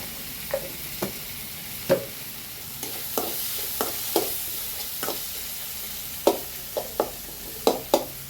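Soft continuous sizzle of tomatoes and onions frying in a pan, broken by regular spatula scrapes and taps against the pan as they are stirred.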